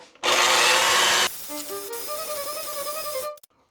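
Cherry ball ingredients, including dark vanilla, are mixed in a bowl for a no-bake treat: a loud, steady whirring burst of about a second, followed by softer tonal music.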